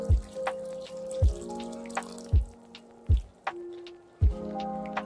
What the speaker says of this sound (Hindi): ये फिल्टर्ड वाटर जो है वो इसमें डाल दे रहे हैं।